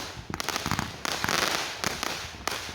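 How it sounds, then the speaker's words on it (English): Fireworks mortars going off at a Fourth of July display, with rapid crackling bursts and sharp pops that come in quick clusters and sound loud and close. "So we're doing mortars twice in a row now."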